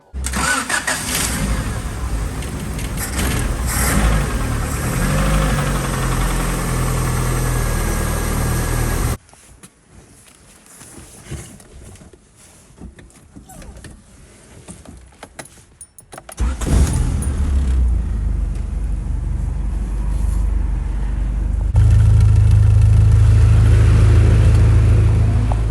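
A 1986 Honda Accord with an A-series engine cranks and fires after a cylinder head install, followed by a quieter stretch, then the engine catches and revs up to a loud, steady drone close by.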